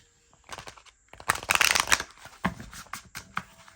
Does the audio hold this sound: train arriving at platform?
no